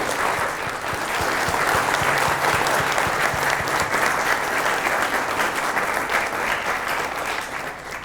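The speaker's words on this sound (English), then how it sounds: "Please all join me in a round of applause thanking Jeff for his contributions." Steady, full audience applause at the close of a university talk, dense clapping sustained for about eight seconds before tapering slightly at the end.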